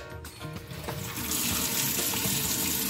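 Water runs steadily from a Moen Extensa kitchen faucet after the main supply valve is reopened, a broadband hiss that builds and holds loud and close, with no voices.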